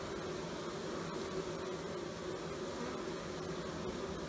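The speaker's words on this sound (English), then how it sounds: "they're fanning their wings and they're blowing the air through and out of the hive" Honey bees fanning their wings at the hive entrance during a big ivy nectar flow in October, a steady, faint, continuous buzzing hum with no voices.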